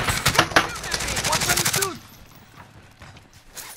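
Rapid automatic gunfire in Call of Duty Warzone, loud bursts of shots packed tightly for about two seconds, then cutting off to quieter scattered sounds while players talk over it.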